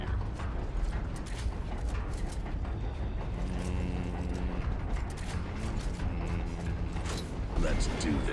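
Torque bow from the Gears video game clicks and creaks mechanically, ratcheting and straining in a dense, continuous run of close, loud mechanism noise.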